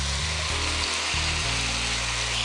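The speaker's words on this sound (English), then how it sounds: "And we're going to add our shrimp." Shrimp hit a hot pan of softened minced garlic with a steady, broadband sizzle that stays loud and continuous throughout, with a low background hum underneath.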